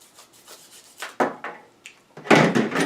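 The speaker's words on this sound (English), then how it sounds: "First we're going to go ahead and cut off this little end here." A knife cuts the end off a light sprouted coconut. It makes a run of soft scraping, rubbing strokes that build to a few louder, close-up cuts, with no talking.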